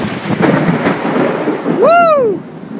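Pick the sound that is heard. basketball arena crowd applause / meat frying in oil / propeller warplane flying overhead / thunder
thunder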